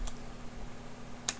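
Two isolated clicks of a computer keyboard, soft and near, separated by a quiet pause over a low steady hum.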